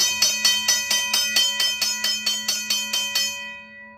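A restored RACO mechanical bell rings in a fast, steady series of about fourteen bright metallic strikes, loud and close, then stops and the ring fades out.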